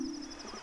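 A short hoot from an owl in the Zelda: Majora's Mask video game, a soft low tone heard briefly against steady game music.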